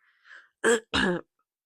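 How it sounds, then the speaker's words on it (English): Two quick, close coughs in a row follow a faint breath, then quiet. "Sorry, I had to cough."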